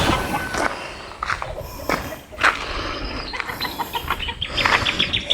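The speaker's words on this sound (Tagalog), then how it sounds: "Ito naman mga manok." Chickens cluck outdoors in scattered, close bursts, with rustling and shuffling steps between the calls.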